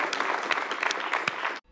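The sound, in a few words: audience applause in debate program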